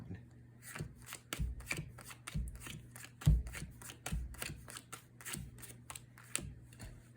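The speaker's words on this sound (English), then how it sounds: "You actually want to deal this top card face down." A playing card dealt face down from the top of a deck, soft card snaps and shuffling flicks in a quick irregular series, close and quiet, with faint hum underneath.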